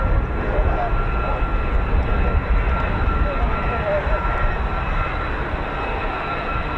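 An F-35A fighter jet carrying extra missile rails and pylons makes a steady, broad engine roar at an RAF Lakenheath air base, holding loud and even throughout.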